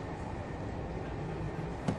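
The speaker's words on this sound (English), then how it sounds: "this is a fucking express train. Don't stop till Manchester" Interior rumble of an express train bound for Manchester running at speed, a dense steady roar with a faint brief click near the end, loud and continuous.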